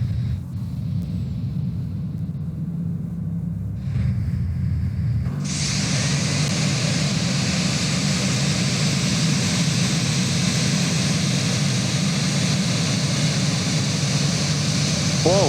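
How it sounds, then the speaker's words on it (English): A Fenix airliner's number 1 engine spools up during a rough pushback in MSFS 2024: a low rumble first, then a loud, steady broadband roar that starts abruptly and holds to the end. "And engine number 1 start."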